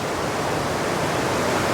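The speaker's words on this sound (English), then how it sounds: "We're back down beside the Merced River now" The Merced River rushes just above Nevada Fall in Yosemite as a dense, unbroken roar of flowing water, steady and loud throughout.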